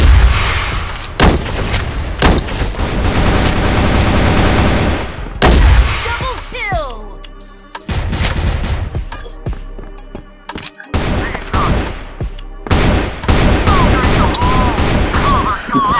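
Loud bursts of rapid gunfire and booming shots come in waves, with brief gaps and whooshing effects between volleys, close and harsh.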